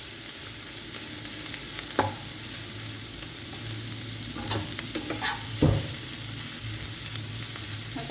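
Onions fry steadily in a small amount of oil in a pan, a soft continuous sizzle broken by a few scraping strokes of a spoon stirring them, close and fairly quiet, no speech.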